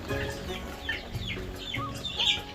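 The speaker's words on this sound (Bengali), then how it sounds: "দেশি মুরগি এভাবে ছেড়ে পালন করে থাকি" Free-range desi chickens clucking in a backyard flock, a steady stream of overlapping clucks and soft calls at close to moderate range, with no talking.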